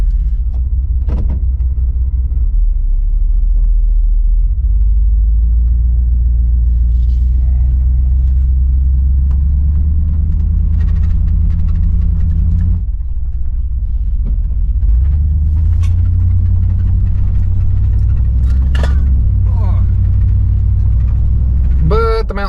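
A 35-year-old Suburban SUV pulls away and drives on, its engine giving a deep, steady low rumble that rises and shifts with gear changes, with scattered clicks and rattles inside the cabin.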